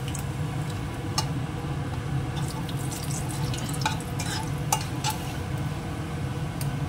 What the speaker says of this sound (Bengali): এবার কড়াইতে আবার তেল দিচ্ছি, এবার মাথাটা ভাজতে দেবো।